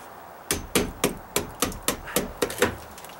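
A hammer beats on a stiff, worn putty knife, eight sharp metallic blows in a fairly even rhythm, close and loud, each blow ringing briefly.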